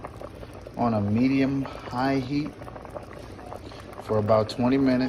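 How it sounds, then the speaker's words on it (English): A pot of root vegetable soup simmers on medium-high heat with a soft, continuous bubbling, mostly under a person talking. "The root vegetables have been simmering on a medium-high heat"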